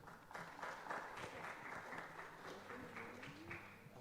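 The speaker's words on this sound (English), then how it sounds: "Round of applause, please." An audience at an English speech competition opening claps steadily, a dense, moderately distant patter of many hands that carries on throughout.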